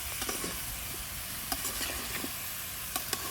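Snake gourd pieces frying in hot oil with salt and turmeric, a steady close sizzle broken by a few soft scrapes of a spatula stirring in the pan.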